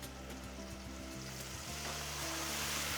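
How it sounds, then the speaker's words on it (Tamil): Garlic and curry leaves fry steadily in hot oil, a dense continuous sizzle and crackle that stays close and loud throughout with no talking. "பூண்டு கருவேப்பிலை கொஞ்சம் பொரியட்டும் ஒரு ஃபியூ செகண்ட்ஸ் நல்லா பொரிய விடணும்"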